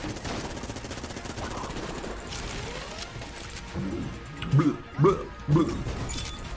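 Katana Bullets from the Enter the Gungeon video game bursting into a chain of sharp, crashing explosive hits, three loud blasts near the end over a busy backdrop of gunfire.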